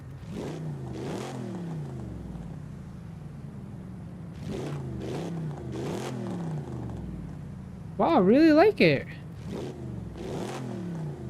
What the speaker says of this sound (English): Let's check out this TVR. Is this a V8? Dude, it's a freaking V8.